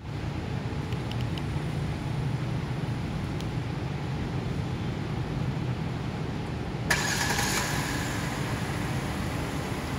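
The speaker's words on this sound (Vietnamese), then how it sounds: "vừa rồi là cái tính năng đèn nổ từ xa nó khởi động trên xe nhé" A Kia Carnival engine, started by remote start, runs with a steady, loud rumble throughout, and a brighter hiss joins in near the end.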